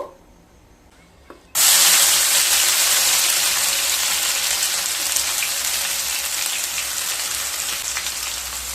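Cauliflower leaf paste hits hot oil with nigella seeds and bursts into a loud, steady sizzle after a quieter start, then keeps hissing and crackling close up without letting up.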